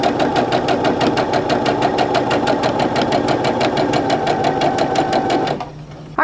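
A sewing machine stitches a quilt seam down a marked line, a fast, even mechanical rattle of needle strokes, loud and close, that runs steadily and then stops abruptly near the end.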